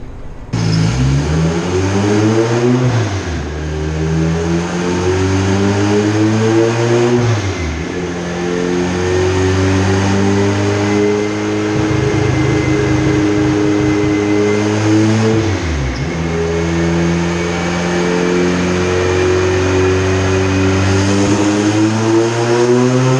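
A tuned car engine revs hard and loud through repeated dyno power pulls on a boosted setup, rising in pitch as it climbs, dropping back, then climbing again, with a steady sustained roar and no talk.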